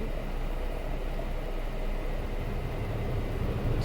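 A Ford/Lincoln MKX blower motor runs as a steady, even broadband whir, like rushing air, holding a constant level throughout with no voices.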